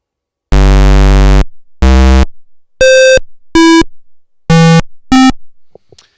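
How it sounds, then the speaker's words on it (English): Software-generated square waveform SID sound from the maxYMiser tracker: six buzzy electronic tones, a long loud one, then shorter pulsed notes at shifting pitches, the last fading out, with no voices. "there is our first software generated waveform"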